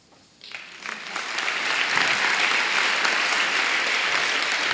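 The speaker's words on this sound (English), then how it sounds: "How about another round of applause for this great group of people?" Audience applause for school district volunteers at a spring recognition night, starting as scattered claps then swelling into steady, full clapping throughout the hall.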